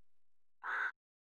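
In Tomb Raider 2, a game bird gives one short, rasping caw midway through, fairly loud and isolated, with quiet before and after.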